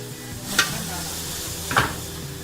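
Butter sizzling in a hot pan for grilled fish steak in a hotel kitchen, a steady close hiss with two brief clinks of a utensil against the pan, no voices.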